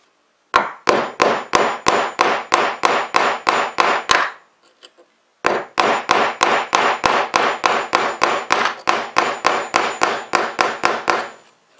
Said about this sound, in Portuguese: Então você bate até chegar no final